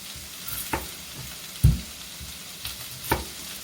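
Sweet onion sizzling in a frying pan, a soft continuous crackle broken by a few sharp clacks and scrapes from stirring.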